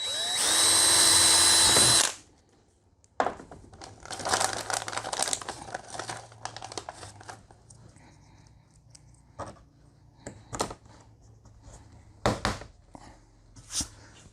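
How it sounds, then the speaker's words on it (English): Power drill drilling holes for fender flares on a Zforce 950, a loud high whine for about two seconds, followed by crinkling, rustling handling noises and scattered clicks and taps. "I'm going to drill this one and work my way to the back"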